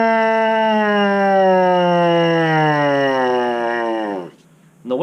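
A trombone mouthpiece buzz, played alone by a player loosening the lips, holds a bright, harmonic-rich tone that slides steadily downward in pitch over about four seconds, then cuts off, leaving a brief pause and a short breath.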